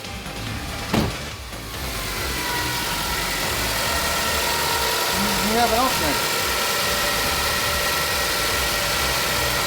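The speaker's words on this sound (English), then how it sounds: "Car started." A Toyota Camry engine idles steadily just after a new alternator goes in, a close, continuous mechanical hum with a faint whine. A brief clunk comes near the start, and someone talks over the running engine.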